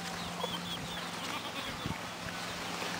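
Chickens among goats and pigs near the sea give faint, scattered clucks over a busy outdoor background of wind and hum, distant rather than close.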